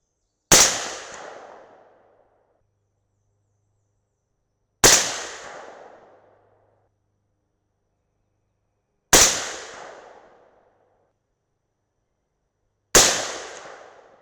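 Four suppressed .308 Winchester rifle shots firing 175gr Sierra Match King handloads over IMR 4064 powder, each a sharp crack with a short decaying tail, spaced about four seconds apart and heard alone in quiet.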